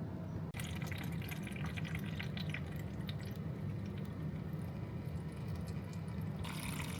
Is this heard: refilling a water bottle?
yes